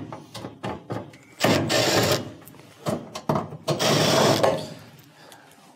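Phillips screws are backed out of the terminal cover on a range oven, with rapid ratcheting clicks of a driver in several close bursts separated by short pauses and the rattle of handling metal.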